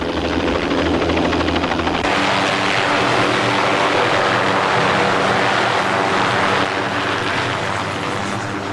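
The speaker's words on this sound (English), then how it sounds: "the helicopter was on the scene." A rescue helicopter slowly approaching a landing zone among wires and obstructions, with a loud, steady rotor and engine roar that shifts in tone partway through and continues without letup.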